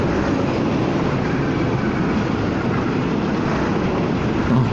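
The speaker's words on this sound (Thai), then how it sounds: "ความรู้สึกคือวิ่งคู่กับรถไฟมันก็อย่างนี้เองเหมือนในหนังเลยฮะ" A train passing alongside a moving Honda Forza 300 scooter near Don Mueang, a loud, steady rushing roar of wheels and wind that stays constant throughout.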